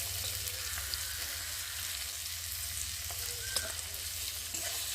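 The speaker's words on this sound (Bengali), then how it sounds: "পেঁয়াজটা একটু ভালো করে ভেজে নেব।" Chopped onion frying with a little salt in a home pan, a soft, even sizzle that crackles gently and continuously for the whole stretch, fairly quiet, with a faint low hum beneath and no voices.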